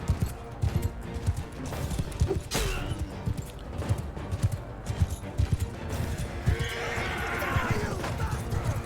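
Cavalry horses in Mount and Blade Bannerlord whinny and neigh amid clattering hoofbeats and battle clashes, one sharp neigh standing out midway, with spoken commentary running over the combat noise.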